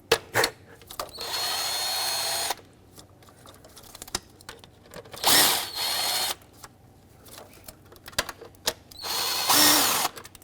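Power tool spinning out intake bolts on a Ford Flex engine, several loud whirring bursts of a few seconds each separated by quiet gaps with small clicks and handling noises.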